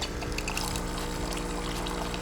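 Water runs from the group head of a DeLonghi ECP3220 espresso machine, a steady pouring trickle over the low droning hum of the machine's pump, close and continuous.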